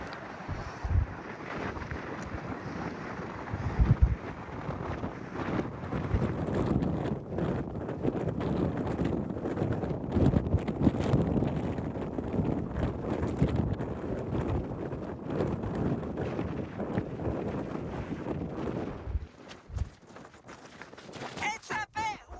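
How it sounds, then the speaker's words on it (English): Strong, chilly wind buffets the microphone at a clifftop lookout over the Great Australian Bight on the Nullarbor, a continuous low roar and rumble with gusty swells throughout, and a voice speaking briefly near the end. "It's a bit windy."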